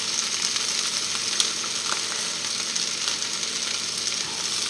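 Salted butter sizzles in a frying pan with nearly cooked potatoes being browned as pommes rissolées. The frying hiss is steady and close, with small crackles and no talking.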